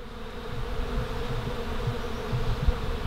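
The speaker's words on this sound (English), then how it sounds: "This tree is actually full of bees right now, swarming and getting pollen from the flowers" Bees swarm through a flowering tree, gathering pollen, their steady dense buzzing forming a continuous drone that fills the whole stretch with no talking.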